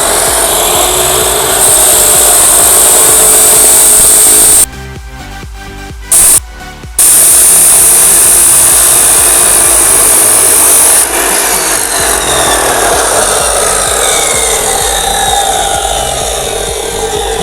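A bench-mounted cut-off machine making a straight cut, its loud, harsh grinding whine running continuously at close range, with two brief gaps where the cutting pauses, and no talking.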